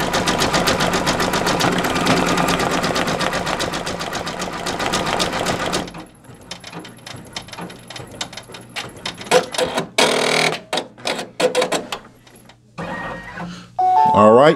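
Brother BabyLock Alliance embroidery machine stitching a design onto a cap on a hoop, a rapid loud needle chatter for several seconds, then quieter scattered clicks and mechanical thumps as it slows and stops.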